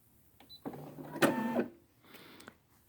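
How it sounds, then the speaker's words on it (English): A Brother SE600 embroidery machine raises its needle at the press of the needle-up button, giving a short mechanical whir with a brief motor hum and click, close and fairly loud, with no voices. "I'm going to hit my needle up button right here"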